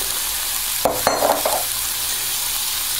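Cauliflower and cabbage frying in warm oil in a large pan, a steady hiss of sizzling with a few brief scraping knocks as the vegetables go in, then the sizzle carries on alone.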